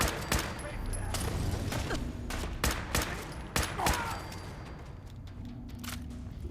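Repeated heavy shotgun blasts boom in Fallout 4 Far Harbor combat, a dozen or so loud sharp shots spaced irregularly over a steady low background.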